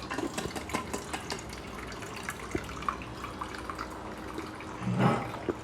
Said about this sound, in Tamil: இந்த பாத்திரத்துக்குள்ள ஃபுல்லாக தண்ணி பிடிச்சிடலாம்.